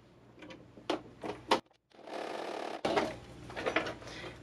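A sewing machine stitches quilt-block fabric pieces in short bursts of quick mechanical whirring, with a brief pause and a couple of faint clicks, fairly quiet and close.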